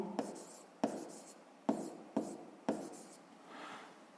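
Marker or pen writing out a sixth-grade maths solution on a board, five sharp strokes starting at steady intervals with scratchy trailing sounds, close and fairly quiet with no talking.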